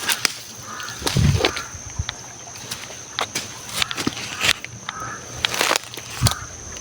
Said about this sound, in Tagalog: Palipot-lipot lang dito yung uwak.